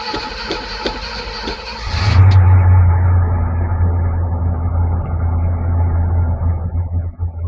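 A 1970 Chevrolet CST10 long bed pickup cranks with a rhythmic starter whir for about two seconds, then the engine catches and settles into a loud, steady low idle up close.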